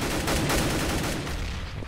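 Rapid gunfire from a Counter-Strike match on de_mirage, dense overlapping shots in a steady burst with no voices.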